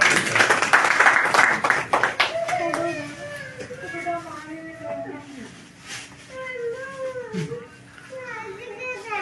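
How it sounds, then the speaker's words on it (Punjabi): Guests clap at a farewell party: a burst of applause starts loud and fades within about two seconds, then speech and children's voices continue over the room. "ਤਾਲੀਆਂ ਤਾਲੀਆਂ"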